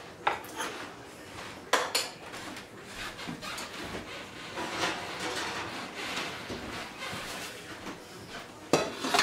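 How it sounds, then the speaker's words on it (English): Honey roasted peanuts being stirred into caramel popcorn in a pot, with soft scraping and rustling and occasional sharper knocks of the spoon against the pot's sides. "Make sure to get this nice and stirred in."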